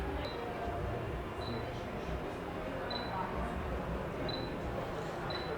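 Five sharp, evenly spaced shutter clicks from a Fujifilm camera with a 56mm f1.2 lens during a low-light autofocus test, crisp and close over a soft background hiss.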